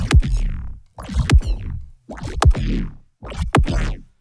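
Impact hits sound-designed from a neuro bass with a boosted transient attack, four heavy booming strikes in steady succession, each a sharp punchy onset followed by a gritty, decaying low rumble, loud and alone.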